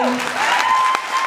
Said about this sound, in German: Das ist kein Applaus für dich.